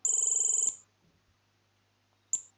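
A telephone rings with a shrill, trilling electronic burst lasting under a second, then a pause of near silence before the next ring begins sharply, close and clear with no voices.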